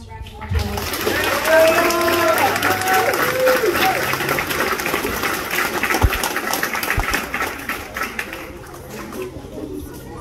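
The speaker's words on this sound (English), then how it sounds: "Please give these students one last round of applause." An audience at a primary school awards assembly gives award-winning students a long round of applause, the clapping building and staying full before slowly tapering while voices murmur underneath.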